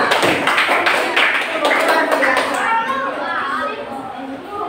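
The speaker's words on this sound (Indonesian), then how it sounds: "Tepuk tangan untuk kalian semua." Students in a classroom clap together in a dense, steady burst of many hands, with children's voices chattering over it as the clapping thins out near the end.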